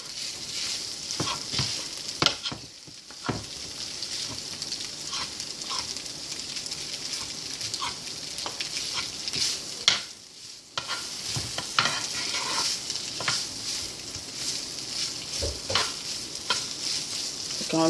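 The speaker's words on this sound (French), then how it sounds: "on laisse cuire vraiment longtemps, caramélisé dans l'oignon et l'huile d'olive." Onions slowly caramelizing in olive oil in a pan over medium heat, giving a steady close sizzle with occasional stirring scrapes and small pops, no talking.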